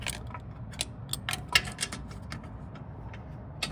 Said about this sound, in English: using a very thin extension and a shallow socket